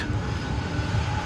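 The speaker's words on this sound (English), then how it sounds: "We're going to now show you 3 Tri-Jets in one shot." Tri-jet airliner engines at DFW Airport produce a steady, low, rumbling roar with a broad hiss on top, sustained and fairly loud across the whole short stretch.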